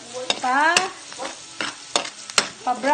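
Garlic fries in a pan as the base for pork sisig, giving a crackling sizzle broken by sharp spatula clanks and scraping strokes, close and fairly loud.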